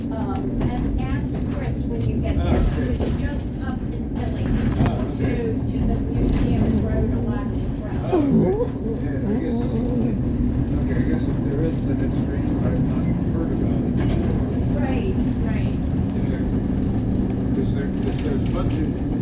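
Classic SEPTA trolley in Philadelphia rolling along its rails, giving a continuous low rumble and rattle throughout, with occasional voices under the noise.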